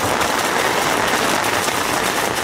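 Heavy summer rain pours down during a hot spell, pouring into a rain barrel; a dense, steady hiss and patter runs loud and unbroken throughout, with no voices.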